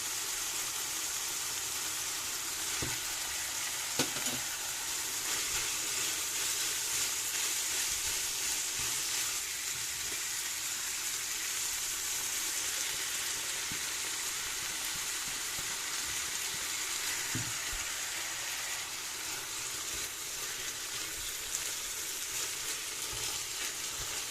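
Onion, garlic, pepper and tomato fry in a pan with a soft, even, constant sizzle, faint and close, and a couple of quiet clicks of a utensil.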